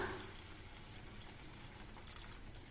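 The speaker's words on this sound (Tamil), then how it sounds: "தேவையான அளவுக்கு தண்ணி விட்டுக்கலாம்" Continuous rushing, splashing water pours steadily into a cooking pot at a moderate level, without pause, with no voices.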